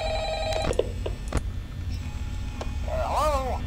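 A telephone rings in the Five Nights at Freddy's video game, with repeated short electronic ring bursts over a low background hum, and a voice briefly heard.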